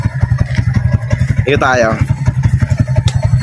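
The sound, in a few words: motorcycle engine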